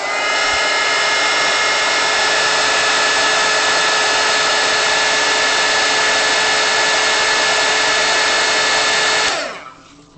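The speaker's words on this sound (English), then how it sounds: "I'm going to heat up her eye a lot, so I can melt my crayon onto it." A heat tool blows loud and steady for about nine seconds at close range while warming a crayon onto a sketch, giving a constant whooshing hum that cuts off abruptly.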